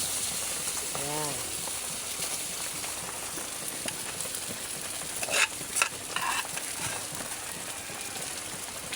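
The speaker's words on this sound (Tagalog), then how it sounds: "Sasangag na natin yung kanin." Rice stir-fried in a pan with browned garlic, a steady soft sizzle and crackle running throughout with occasional scraping of a utensil, a voice speaking briefly under it.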